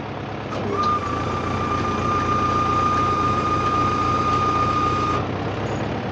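A KENTAVR 404 SD tractor idles steadily while raising a Bomet 1.8 disc harrow, a constant close engine drone with a thin high whine running through the middle and no throttle added.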